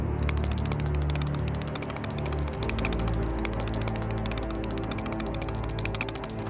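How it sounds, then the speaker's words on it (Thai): A bell rings steadily and loudly for several seconds, a sustained bright metallic ringing with no talk over it. "พ่อเสียงกระดิ่งพ่อได้ยินไหม"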